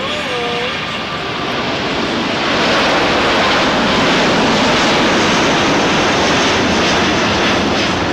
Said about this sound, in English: Here comes that Emirates King